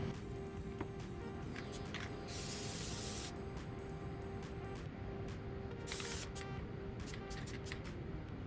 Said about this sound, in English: one thing you could do is spray Plasti-dip on the bottom